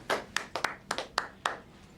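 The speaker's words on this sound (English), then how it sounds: "A round of applause for Sparksy and his little mate." Sparse handclaps, about seven sharp distinct claps in an irregular rhythm, close and fairly quiet, from a few people giving a mocking round of applause in a warehouse-area police scene.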